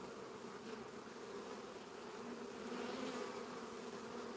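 Honeybees buzzing in a backyard beehive, with a dense, steady droning hum that stays continuous throughout, moderately faint and without speech.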